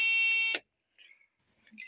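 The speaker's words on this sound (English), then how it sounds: "your lights are on and you turn off the car and you get out the car, it's going to give you a buzzer" Lights-on warning buzzer in a 1984 Isuzu KB2000 pickup: a steady, tonal electronic buzz, close and fairly loud, holds for about half a second and cuts off, leaving near silence.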